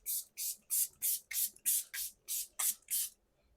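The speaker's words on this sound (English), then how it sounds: "I'm going to spray that all over." Ten quick, evenly spaced hissing bursts of makeup setting spray, close and fairly soft, followed by a brief quiet pause.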